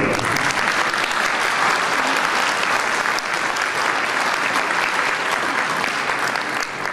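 Sustained applause from an audience at a mayor's New Year speech ceremony, dense and steady for the whole stretch, fairly close and loud.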